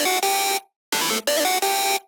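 Flat synth lead with no automation for a melodic drum and bass track, a bright buzzy tone held in steady sustained notes separated by a short gap, loud and static, alone.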